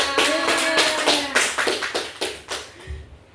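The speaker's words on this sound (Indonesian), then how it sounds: "Mari kita tepuk tangan buat Zahra" A small classroom group claps for a student in a short burst of distinct, uneven hand claps that thin out and fade within a few seconds.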